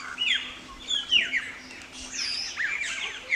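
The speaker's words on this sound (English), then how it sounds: "The lorikeets squawked and squawked." Lorikeets squawking, several harsh chirping calls in quick, irregular bursts, fairly close and moderately loud, over faint background hum, with no voices.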